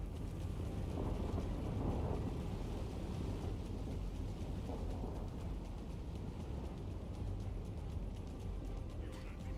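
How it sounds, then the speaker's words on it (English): Rain pours steadily in the video game Chivalry 2, a dense, continuous hiss with low rolling thunder rumbling underneath, swelling briefly near the start, no voices. "It's raining."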